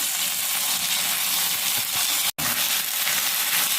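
Soaked Gobindobhog rice fries in hot oil in a pan, a loud, close, continuous hissing sizzle with faint scraping of stirring, broken by one very brief silent gap.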